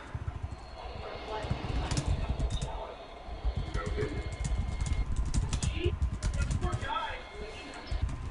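A loud computer keyboard clatters with dense, rapid keystrokes throughout a gaming session, continuous and close over a steady noisy background.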